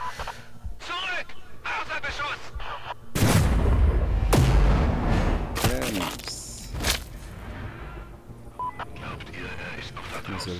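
A loud burst of gunfire in the video game Sniper Ghost Warrior 3 booms and crackles, with further sharp shots and echoing blasts while someone talks excitedly over the action.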